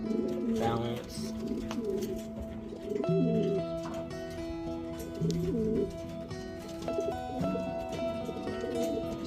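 A racing pigeon, a medium-sized cock bird returned injured from a race, coos in low, throaty rolling phrases repeated several times, close and steady against a constant background hum.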